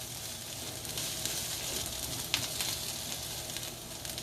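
Red cabbage caramelizing in a pan gives a continuous close sizzle and hiss, with a few brief scraping clicks as it is stirred.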